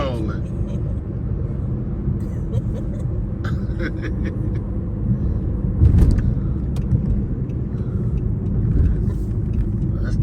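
Inside a Dodge Charger on the road, a low engine and tire rumble runs steadily, swelling briefly midway, while people talk over it.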